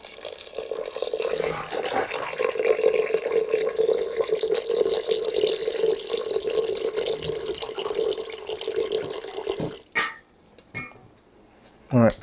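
Water runs from a tap in a steady, rushing stream into buckwheat for soaking, close and continuous for about ten seconds before stopping, followed by a few brief drips and splashes.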